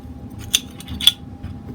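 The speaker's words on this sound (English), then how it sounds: "So you go ahead and dry fire it and pull down those latches and lift it off." A Taurus TX22 pistol being field-stripped: two sharp metallic clicks as the latches are pulled down, followed by a faint softer click as the slide lifts off, close and quiet.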